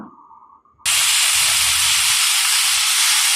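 Loud, steady hiss of something dropped into hot oil in a kadai for tomato bharta, starting abruptly after a brief quiet moment and sizzling continuously up close.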